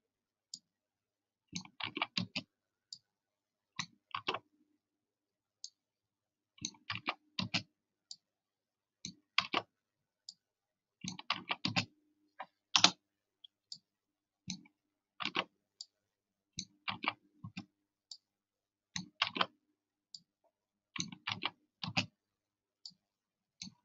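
Computer mouse and keyboard clicking during cut-and-paste work on a yearbook page layout, sharp close clicks coming in quick clusters with short pauses between them, no talking.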